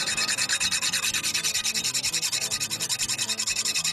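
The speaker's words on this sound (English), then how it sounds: "This is just a coarse stone, and I'm going to use this to get some of the scale off before I scrape the edge." Coarse stone rubbed over a freshly forged camp knife to strip scale, a steady rhythmic back-and-forth rasp repeating several times a second, close and continuous with no talking.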